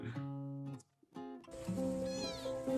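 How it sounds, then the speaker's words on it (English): A kitten meows several times in high, drawn-out cries, close and fairly quiet, with brief pauses between calls. "So what, these are kittens hanging out with dogs?"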